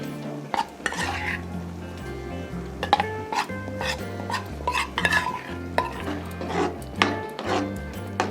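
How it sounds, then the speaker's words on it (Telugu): Gram flour being stirred into spinach curry in a frying pan, with close, irregular scraping strokes over a soft sizzle and a low steady hum underneath. "శనగపిండి ఇలా వేసుకుని మొత్తం కలుపుకోవాలి."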